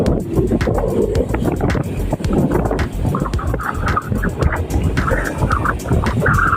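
Steady wind rushes and buffets against the microphone outdoors, with rumbling low noise throughout and a faint engine-like drone beneath.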